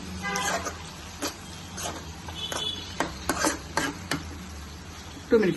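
A spoon scrapes and stirs finely chopped tomatoes in a pan as they cook for an aubergine curry, in scattered strokes over a faint sizzle.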